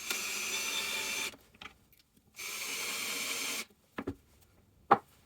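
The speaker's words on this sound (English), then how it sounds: "first I have to put some screws in it so I can manipulate it." A power drill drives screws into a cut-out drywall patch piece in two sustained whirring bursts, followed by a few short clicks and knocks as the piece is handled.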